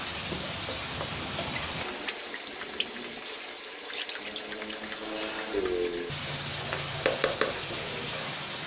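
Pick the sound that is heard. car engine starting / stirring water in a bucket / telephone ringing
stirring water in a bucket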